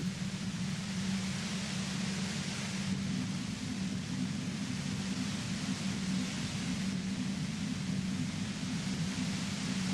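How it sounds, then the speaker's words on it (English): Steady white noise static hisses loud and unbroken for the whole stretch in the video game Disco Elysium, a broad even wash with a low hum beneath and no speech. "You hear through the white noise. It's especially bad suddenly."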